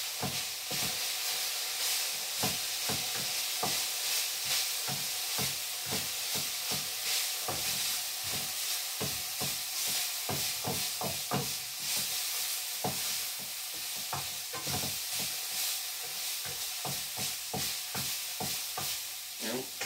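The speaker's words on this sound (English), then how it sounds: "Stir for 1 minute." Garlic is fried in a pan and stirred for about a minute, giving a continuous sizzle with frequent clicking scrapes of the spoon against the pan.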